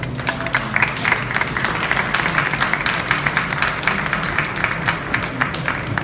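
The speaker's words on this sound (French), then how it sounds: "je vous propose de tous les applaudir" An audience at the close of a conference on a European Interreg building project breaks into sustained applause, dense and even clapping at moderate distance that carries steadily to the end.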